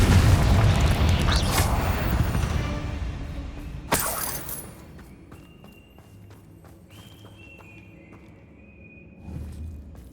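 A Confringo fire-blast spell from Hogwarts Legacy explodes with a loud, dense burst of noise, followed by one sharp crack and shattering debris, then a quieter stretch with faint rumbling and a softer thump near the end.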